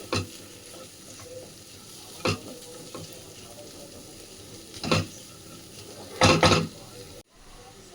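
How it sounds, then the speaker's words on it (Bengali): Potatoes are stirred into Maggi noodles in a frying pan over a soft continuous sizzle, with several scraping, clattering stirs of the spatula against the pan and a brief sudden cut near the end. "এই আলুটাই এর সাথে ভালো করে মিক্স করে নিচ্ছি।"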